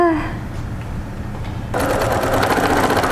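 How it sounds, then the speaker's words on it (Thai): A sewing machine runs at steady speed stitching the edge of a twisted shirt, loud and close; a short tonal sound opens the clip, and the motor's rapid whirring hum grows fuller partway through. "หลังจากนั้นเราก็จะเอาไปเย็บ ริมตรงนี้นะคะ ไม่ให้มันเปิดออกมาเนาะ"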